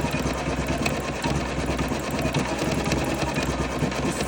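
A Janome embroidery machine stitches a diagonal crosshatch fill into fabric, its needle chattering in a fast, steady, close mechanical rhythm that runs on without a break.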